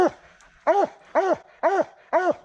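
A treeing walker coonhound barking at a tree on a hot summer raccoon hunt gives four loud, evenly spaced bawling barks close by, each one drawn out and ringing.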